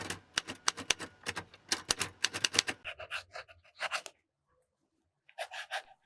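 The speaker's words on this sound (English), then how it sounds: "The next writing sample is done on a national brand Steno notebook." A Sailor fountain pen with a soft fine nib scratches across a national brand Steno notebook in quick, close strokes, a dense run of crisp scratches, then a pause and a shorter burst.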